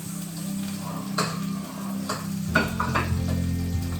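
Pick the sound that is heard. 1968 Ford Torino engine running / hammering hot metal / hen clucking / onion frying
onion frying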